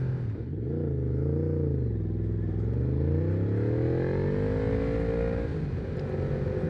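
A Yamaha MT-10 motorcycle on the move, captured by an action camera: a loud, continuous engine drone that rises and falls in pitch as the throttle changes, with no talking.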